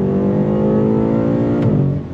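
A 2022 BMW M8 Competition pulls hard under throttle, a loud, steady engine roar with close harmonic drone and a brief shift-like break near the end, heard from inside the car.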